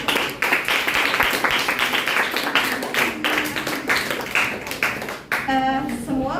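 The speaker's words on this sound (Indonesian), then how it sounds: "kita beri tepuk tangan buat kelompok" A classroom group claps for classmates who have just presented, a dense, steady patter of many hands lasting several seconds, with voices and a brief cheer rising near the end.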